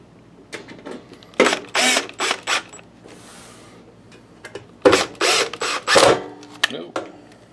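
Screws being driven back into the cover of a SpeakerCraft BB1235 12-channel amplifier, a few close bursts of ratcheting, whirring tool noise separated by quiet pauses.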